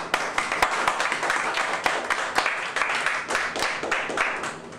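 A church congregation claps in praise, a dense, fairly close burst of many hands with sharp, rhythmic beats running steadily throughout without voices.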